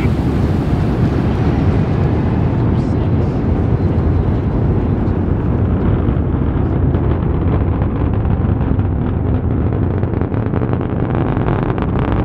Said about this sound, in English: Engines full power and lift off.